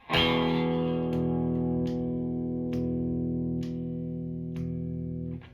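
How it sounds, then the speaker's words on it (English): A single distorted open E on a Squier Vintage Modified Jaguar electric guitar rings out and sustains steadily for several seconds with faint ticking clicks, then cuts off. "Might be easier to hear on an E with an open E."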